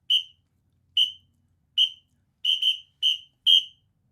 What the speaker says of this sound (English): On that last whistle note, the whole band starts together.